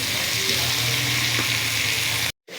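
Three medium chopped tomatoes drop into spices frying in a pan for hotel-style qeema, giving a loud, steady close-up sizzle that runs throughout before cutting off abruptly near the end.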